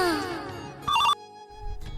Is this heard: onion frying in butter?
no